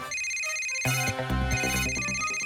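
A cartoon mobile phone rings with a bright electronic melodic ringtone, starting with a simple tone and then swelling into a fuller, chiming tune, loud and alone with no talk.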